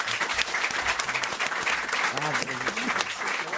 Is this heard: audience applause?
yes